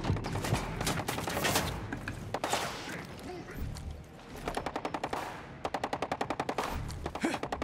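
Automatic gunfire during a Ghost Recon Breakpoint firefight, with loud bursts and single shots at first, then rapid, evenly spaced volleys of rattling fire toward the end, close and dominant.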